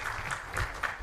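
An audience at a formal Tanzanian state event claps steadily for the guest of honor, a dense and fairly close patter of many hands that carries on without a break.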